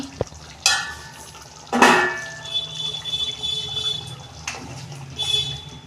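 A metal lid is lifted off a pan of cooking cauliflower with a few sharp metallic clanks and ringing tones, separated by a soft low simmer.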